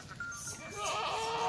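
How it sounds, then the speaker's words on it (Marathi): Kathiawari goats and sheep bleat at a livestock sale, several wavering calls rising toward the end over a murmur of voices and outdoor background noise. "आता आपण मेंढ्या बघू, 11 मेंढ्या मित्रांनो"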